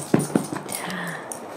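A small dog makes a few soft whimpering sounds indoors, mixed with two short thumps at the start and a faint thin whine that fades out.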